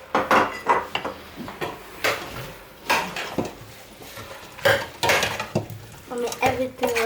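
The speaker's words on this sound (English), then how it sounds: "the dry crayfish is going to come in now" Dry crayfish goes into a pot of vegetable okra soup amid repeated metallic clanks and scrapes of a spoon against the pot, loud and close in irregular bursts, with a faint voice now and then.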